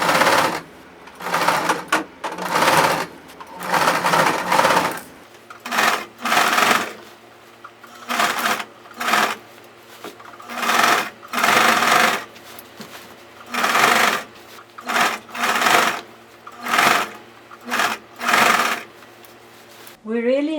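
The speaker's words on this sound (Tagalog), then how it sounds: "sometimes we have to manually manipulate the sewing machine, because this is where the zipper is" A sewing machine stitches a waistband onto pants in bursts of rapid mechanical clatter, stopping and starting repeatedly around the thick zipper area, with a voice talking over the work.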